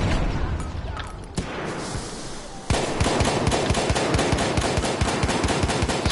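Battlefield 1 gunfire: after a few scattered shots, a rapid run of sharp automatic bursts fires close and loud in a steady rhythm through the second half.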